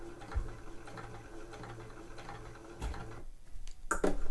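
A sewing machine stitches slowly along a trouser pocket seam toward a corner, its soft mechanical ticks coming in a steady, unhurried rhythm, close by and fairly quiet, ending in a few sharper clicks.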